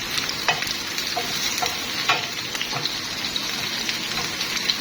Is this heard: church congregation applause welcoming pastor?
no